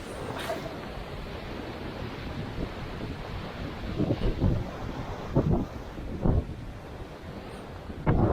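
Ocean waves on a beach at Stoke, North Devon, as the tide comes in: a constant rushing wash with several heavier surging breaks, partly masked by strong wind buffeting the microphone.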